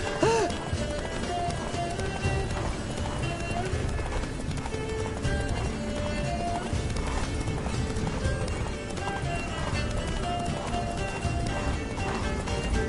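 The horse Roach gallops in The Witcher, a steady, rapid clip-clop of hooves running under continuous game sound, with a whinny and voices talking over it.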